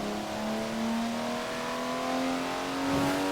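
A TVR sports car in Forza Horizon holds a steady, rising engine drone, revving smoothly upward over a few seconds with a sustained harmonic whine and no talk.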